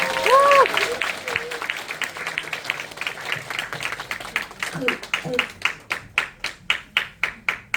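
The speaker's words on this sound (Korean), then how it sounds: "큰 박수로 보내주시면 감사하겠습니다" Applause from a church congregation at a pastor's installation service: a dense burst of crowd clapping that gradually thins into a few loud, evenly spaced single claps near the end, with some talk early on.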